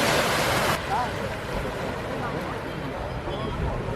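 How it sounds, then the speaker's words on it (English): Water washes steadily against a historic stone quay in Crikvenica, Croatia, a loud hissing rush at first settling into a softer, continuous lapping surf close by. "listening to the gentle lap of waves against the historic quay"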